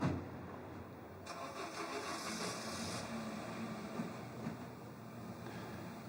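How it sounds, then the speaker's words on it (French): A 4x4 in a film scene starts up and drives off, its engine a steady low rumble with a brief surge as it pulls away, moderately distant and without speech. "Le jeune juge qui monte dans sa voiture, dans son 4x4, et qui s'en va."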